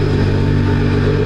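A powerful sports car engine runs loud and close, a steady deep rumbling drone with a rough, throaty edge.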